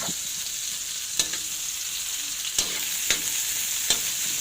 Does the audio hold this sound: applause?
no